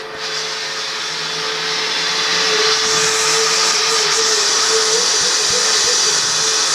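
A vacuum cleaner runs while a car is cleaned, a loud, steady motor whine with a constant tonal hum, rising slightly in pitch and volume after the first couple of seconds, with no talk.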